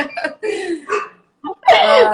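A small pet dog gives several short, sharp barks indoors at home, close and loud, in bursts with brief gaps, during an online live session.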